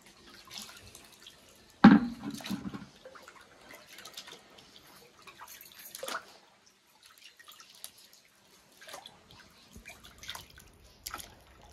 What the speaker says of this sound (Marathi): मग शेणकुलीचं पाणी करून अंगणावरती टाकायचं आहे.